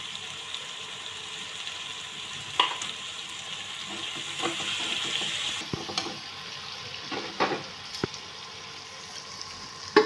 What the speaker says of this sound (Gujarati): વેજીટેબલ્સનો થોડો ક્રન્ચી ટેસ્ટ આવે એ રીતે એને ફૂલ ફ્લેમ ઉપર હલાવીશું